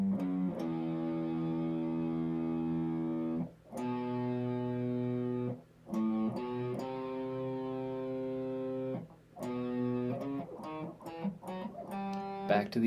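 A distorted electric guitar plays a slow riff of held, gritty notes with short gaps between them, ending in quicker picked notes.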